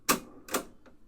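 Three clunks from the pause control of a Realistic 999B reel-to-reel tape deck: two solid mechanical knocks about half a second apart, then a fainter click, close and alone with no talk.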